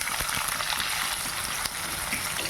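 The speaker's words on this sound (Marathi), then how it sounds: "कांदा लाल होईपर्यंत परतून घेऊया ते." Chopped onion fries with garlic in a pan, producing a dense, even crackling sizzle throughout, close and steady, with a faint scrape partway through.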